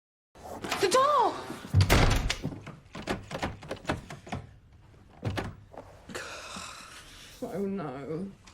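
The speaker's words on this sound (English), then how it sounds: "The door!" A door slams shut with a sharp thud near the start, followed by people talking over quieter knocks and bumps.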